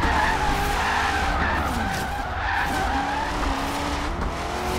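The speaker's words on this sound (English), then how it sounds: "This is a lot of drifting, though, and this is definitely gonna be a very high speed" A car drifts in Forza Horizon 3 with sustained tire squeal and skidding over a loud, revving engine, the pitch sliding up and down as it slides through the corner.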